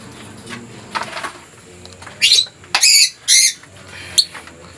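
Lutino opaline pet birds, likely lovebird chicks, give short bursts of shrill chirping and squawking up close, several sharp calls in quick succession over a quiet room.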